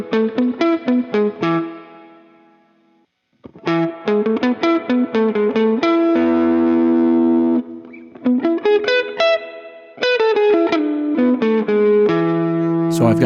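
Electric guitar playing crunchy, overdriven chords and riffs with a splashy spring-reverb tail, in bursts separated by short pauses.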